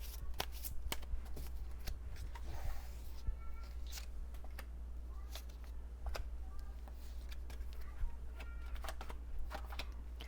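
Tarot cards are shuffled close to the microphone, with repeated crisp riffling and flicking bursts over a quiet room hum and no talking.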